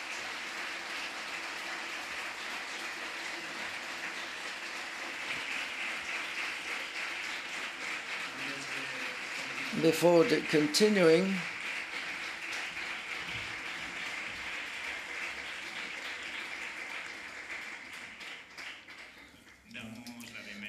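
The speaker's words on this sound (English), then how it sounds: "let's do a big round of applause for Penelope" A press conference audience for the 2019 film Wasp Network applauds an actress in a steady, diffuse patter. A brief voice cuts in midway, and the clapping thins out near the end.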